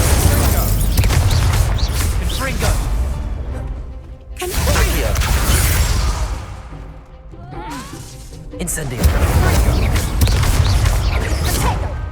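Fire spell cast in the video game Hogwarts Legacy, with loud, roaring whooshing blasts in several surges separated by brief lulls, heavy and close.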